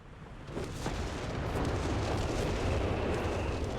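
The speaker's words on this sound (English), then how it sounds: "Stuka's firing again" A Stuka unit in a World War II strategy game launches an artillery barrage that swells into a dense, rumbling roar of continuous explosions. It stays loud and sustained after a brief quieter start.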